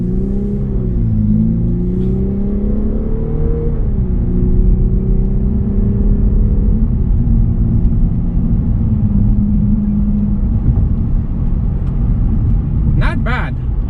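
A 2019 Lexus IS300 F Sport with a 2-liter turbo engine accelerates hard in sport mode, heard from inside the cabin as a loud, rising engine drone that climbs through gears with shifts, then settles into steady road rumble.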